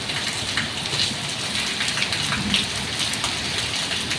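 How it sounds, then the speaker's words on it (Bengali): Heavy rain pours down outside in a steady, dense hiss that fills the whole stretch, with low rumbling underneath that may be distant thunder. "বাপরে দেখো কত বৃষ্টি আরম্ভ হয়েছে বাইরে"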